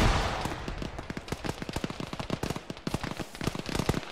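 Heavy gunfire in the military shooter Arma during a ShackTac squad assault: a dense, rapid rattle of overlapping rifle and machine-gun shots, loud and close at first, then continuing in irregular bursts with no talk.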